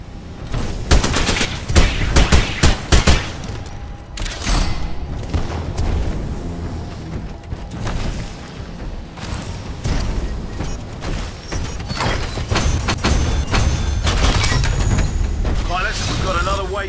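Mortar titans launching rockets in Apex Legends, heard as a dense, loud barrage of booms and rapid gunfire-like blasts that goes on throughout, with explosions layered over one another and game audio underneath.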